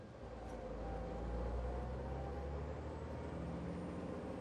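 A truck engine runs steadily through a double-clutch gear change, a dense low rumble that continues without a break at moderate, fairly distant volume.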